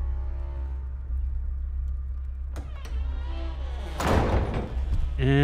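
In the game Exanima, a door is opened with a wooden thump and a creaking scrape, close and fairly loud, set against a low ambient rumble, with a voice talking at times.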